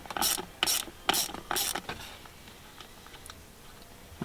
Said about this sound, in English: you want to start by removing the Torx bolt that bolts the factory shifter in.